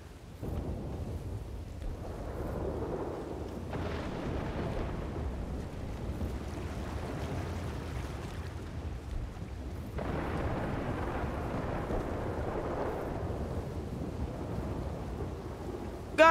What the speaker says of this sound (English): It's starting to storm.